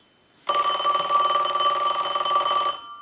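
A Western Electric Princess rotary telephone, under repair and driven by a test analyzer, rings with a loud, continuous electromechanical bell burst lasting about two seconds after a short silence, then cuts off.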